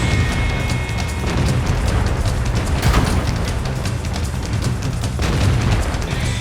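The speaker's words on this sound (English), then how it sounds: "Fox starts the mayhem right away, firing on the move and using APCR shells to punch through armor." E50 tank in World of Tanks firing APCR shells on the move, heavy booming cannon shots and dense battle noise filling the whole stretch, steady and loud.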